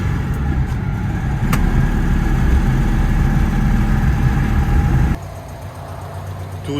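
A 1973 Citroën Ami 8 break engine runs at a steady rumble, then drops abruptly to a quieter idle near the end.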